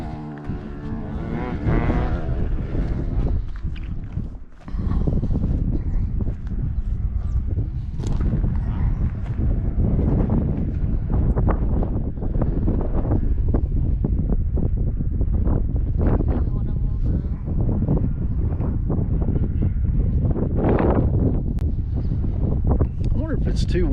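Strong wind buffets the microphone on top of Handies Peak near Silverton, Colorado, a loud, continuous rumbling roar with gusty swells throughout, while people talk over it.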